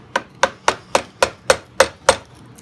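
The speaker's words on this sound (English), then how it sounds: "you can just use the mallet to work that" Mallet striking a Pfeil carving gouge: eight evenly spaced, sharp wooden knocks at a steady rhythm, close and fairly loud, with no talk.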